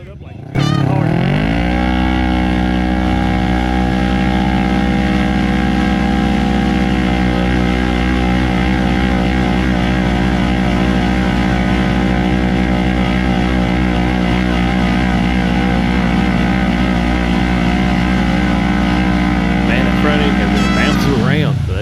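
Two side-by-sides, a four-seat Honda Talon and a Kawasaki KRX, pull against each other in a tug of war. Their engines roar steadily and loudly at high revs for the whole stretch, with voices mixed in underneath.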